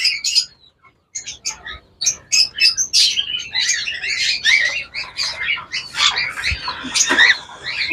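A crowd of pet birds at a bird seller's chirps, tweets and squawks in dense overlapping calls, loud and close, with a brief lull near the start.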